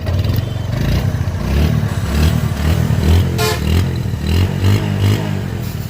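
A Bajaj Discover 135 motorcycle engine idles and revs up close with a loud, rhythmic thumping exhaust and some mechanical clatter, no voices over it.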